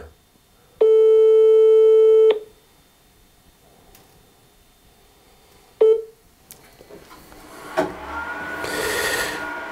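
A telephone ringing tone sounds once as a steady, loud beep of about a second and a half while a call waits to be answered. Sharp clicks, scraping and rustling of tools follow.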